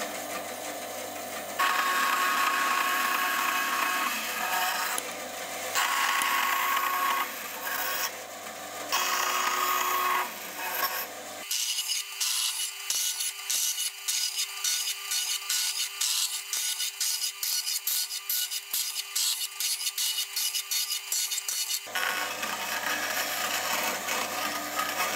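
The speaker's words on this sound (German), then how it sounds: "wir sägen und drehen und sägen und drehen" A pipe being hand-sawn and turned in a home workshop: rough rasping strokes at first, then a quick, regular run of short sawing strokes, pausing as the pipe is rotated, with no talk.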